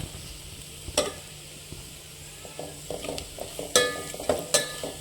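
Spices and red chilli powder with biryani masala frying in a pan, stirred with a spoon; steady sizzle with intermittent scraping strokes and a few sharp metallic clinks, close and alone.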